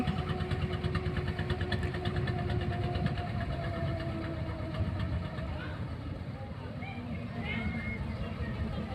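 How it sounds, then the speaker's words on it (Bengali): A passenger trawler's engine chugs steadily on the Padma river, a continuous mid-pitched drone that eases slightly toward the end, with someone talking over it throughout. "আপনারা দেখতে পাচ্ছেন পদ্মা নদীর বুকে যাত্রী নিয়ে ট্রলার চলে যাচ্ছে উজানের দিকে"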